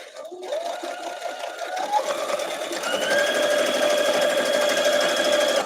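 A Baby Lock sewing machine stitches a quilt block, its close, steady mechanical whir building in speed and pitch and then holding a fast, even running hum.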